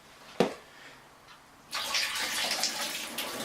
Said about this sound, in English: Just rinsing it there with hot water.